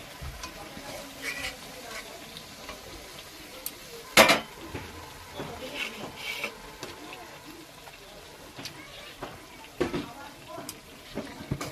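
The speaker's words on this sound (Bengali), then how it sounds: "এই যে আমি মাংসগুলো সব দিয়ে দিলাম।" Mutton pieces dropped into a hot cooking pan over low gas for curry, giving a soft sizzle with scattered clinks and scrapes of a utensil against the pan and one sharp clatter, while a person talks over it.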